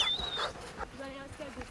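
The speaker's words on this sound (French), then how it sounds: "1 heure de balade en chien de traîneau" Sled dogs on a snowy Alpine plateau yipping and whimpering in short excited bursts, heard fairly close amid outdoor commotion and a brief high whistle-like tone at the start.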